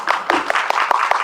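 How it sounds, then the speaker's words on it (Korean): Short burst of audience clapping at a film screening talk event, a few distinct claps in quick irregular succession, close and fairly loud, with no voices over it. "이건 감독님께 한번 박수를 드리도록 하겠습니다."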